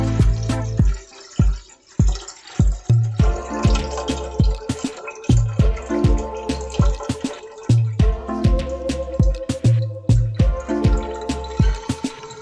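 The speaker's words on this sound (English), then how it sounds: "Now using a strainer to fill up a pot, making sure no rice be left in there." Rice water is poured through a strainer into a pot, giving repeated splashing pours and drips in irregular bursts, loud and close, with no talking.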